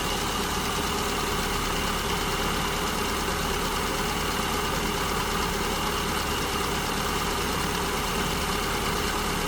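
An engine idles steadily while its idle mixture is leaned out by tachometer, a continuous even hum and rumble at constant level with no speech throughout.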